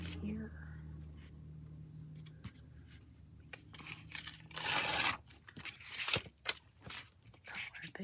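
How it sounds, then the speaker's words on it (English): Old paper being torn by hand, with crisp ripping bursts in the second half after a quieter stretch, close and fairly loud, with no talk. "Let's tear this up here."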